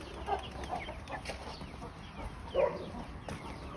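Farm fowl, including guinea fowl, cluck and call in short, scattered bursts over a busy outdoor farm background, with no one speaking.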